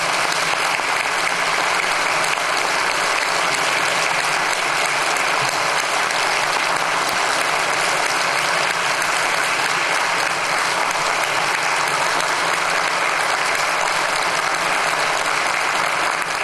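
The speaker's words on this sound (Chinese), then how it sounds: "朝野立委立刻起立鼓掌叫好，足足超过三分钟。" Legislators in Taiwan's parliament give a sustained standing ovation, loud, dense and unbroken applause that fills the chamber from start to finish.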